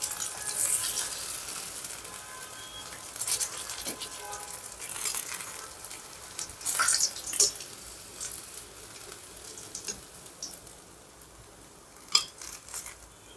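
Pieces of fish fry in hot oil for a Bengali fish fry, a soft steady sizzle with occasional clinks of a utensil against the pan, moderately quiet and close.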